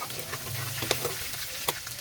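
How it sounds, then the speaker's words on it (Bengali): Chicken pieces fry in a pan, browning before being cooked with pointed gourd and potato: a steady close sizzle with a couple of sharp scraping stirs, no voices. "কিছু কিছু মাংস একটু ব্রাউন কালার আসা পর্যন্ত ভেজে নেব"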